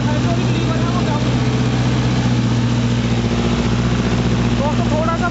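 Mahindra NOVO 655 tractor pulling a 9-foot Param rotavator through hard black soil, a steady loud droning engine hum with constant low rumble and a voice talking over it.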